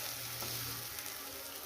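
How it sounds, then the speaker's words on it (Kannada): Ingredients for a Marvin Kai chutney frying in a pan, a steady close sizzle with faint stirring, no voices. "ಅದನ್ನ ಫ್ರೈ ಮಾಡಿ ಒಂದು 5 ನಿಮಿಷ ಫ್ರೈ ಮಾಡಬೇಕು."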